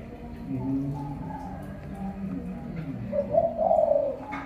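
A đồng quy hổ bird used as a ground decoy calls in a low, cooing series at dusk, ending in a louder drawn-out note.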